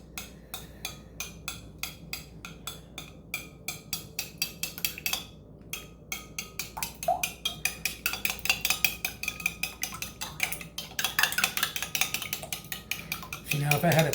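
A spoon beating eggs in a bowl for almond French toast casserole, heard as a fast, steady run of close clinks and taps that speeds up and gets busier and louder over the whole stretch.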